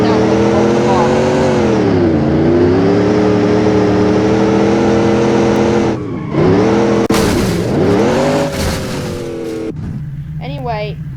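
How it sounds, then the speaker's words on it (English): A modded off-road car's engine in BeamNG.Drive, a CJD Special Tunes build, drones steadily with an old-car tone, its pitch rising and falling with revs, and a voice talks over it throughout. "This also sounds like an old car"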